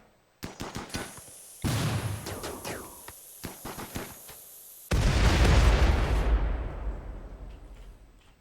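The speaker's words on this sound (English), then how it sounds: "Why are you shooting?" Gunfire in the video game RimWorld: a rapid series of sharp shots, then a sustained burst, more shots, and a loud blast that rings out and slowly fades, close and loud with no talking.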